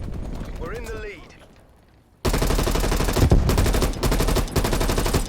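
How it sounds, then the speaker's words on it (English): Rapid SMG fire in a first-person shooter video game on a desert dunes map, bursting loud and continuous after a brief quieter stretch with a voice speaking over game audio. "SMG has some slow ass fire rate"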